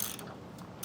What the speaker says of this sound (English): Now we're going to grab a 3/4 inch socket and wrench and tighten these down a little bit more.